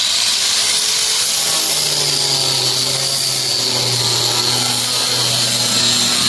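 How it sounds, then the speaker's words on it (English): A power grinder smooths cured epoxy on a car body kit in an auto shop, during a four-door R34 conversion to a GTR body. The steady, loud whine and hiss run without a break for the whole stretch, with a low hum beneath. "So you gotta grind it down real smooth"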